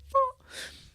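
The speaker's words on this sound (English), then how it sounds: "I'm yawning." A person yawns close by, starting with a short voiced, rising tone and trailing into a long, soft breathy exhale.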